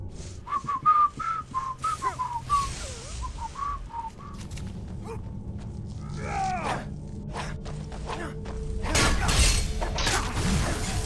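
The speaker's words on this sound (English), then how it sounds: "We're about to find out how the mic does with whistling." A person whistles a short, wavering tune up close, with rustling and clattering handling noise around it and a louder crackling burst near the end.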